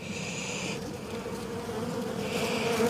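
Honeybees swarm and buzz steadily inside an opened beehive during frame inspection, a dense continuous droning hum held close to the ear, with a brighter higher whine in the first stretch and again near the end.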